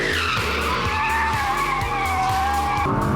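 Audi R8 with a V10 engine sliding sideways with ESP switched off, tires squealing loudly and continuously over a deep, close engine roar.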